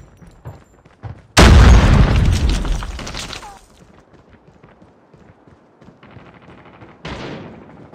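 A loud grenade explosion in Call of Duty Mobile multiplayer erupts after brief scattered game noises, then a long rumbling decay, followed by a second smaller blast near the end.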